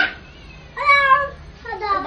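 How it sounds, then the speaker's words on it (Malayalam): A cat meowing nearby while being given food, two drawn-out, tonal meows, the first starting midway and the second following shortly after. "ആ പൂച്ചനെ കണ്ടോ നിങ്ങള്?"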